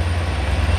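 A Long Island Rail Road train on the track at a station gives off a loud, steady low rumble with broadband rail noise throughout, no voices.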